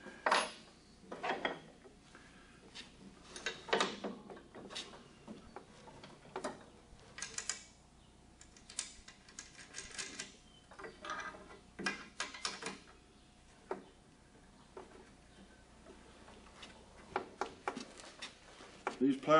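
Metal clinks and scrapes of a wrench tightening a bolt on an old walking plow, irregular close clanks scattered through the clip with someone talking in between.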